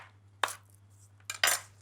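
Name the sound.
roughly chopping long red chilli with knife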